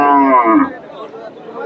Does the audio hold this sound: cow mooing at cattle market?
yes